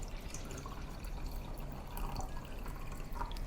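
Water poured from a container into a rice cooker pot holding fried rice, taro and mushroom for taro rice, a steady trickling and splashing stream running continuously at close range with no talk.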